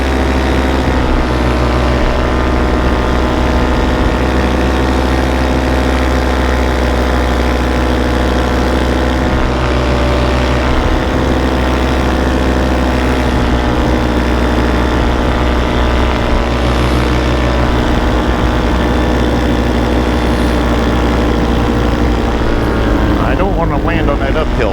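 A small propeller aircraft banks into a turn and sets up for landing in gusty wind, its steady engine drone loud and continuous throughout.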